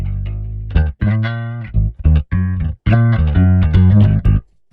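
Electric guitar played through a chain of effects pedals including a Darkglass unit, giving a fuzzy, distorted tone; loud chords and notes are struck in short bursts with brief gaps, no talking.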